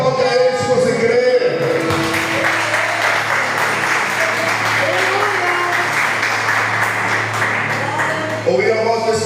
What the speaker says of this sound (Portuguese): E aplaude a Ele se você crê.